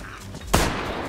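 A single sharp 12-gauge shotgun blast in the survival game DayZ, loud and close, cracking out alone with a short decaying tail over faint ambient background.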